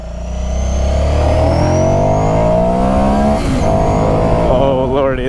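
A 2016 Ducati Scrambler Sixty2 engine revs and pulls away, its loud steady drone rising and shifting in pitch through the gears, heard close with wind rush and a voice briefly over it.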